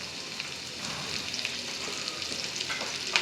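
Chopped onions and green chillies fry in hot oil for a puti fish curry, giving a steady, close crackling sizzle that holds even throughout with no talking.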